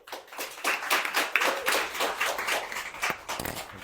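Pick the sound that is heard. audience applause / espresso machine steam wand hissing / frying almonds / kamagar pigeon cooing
audience applause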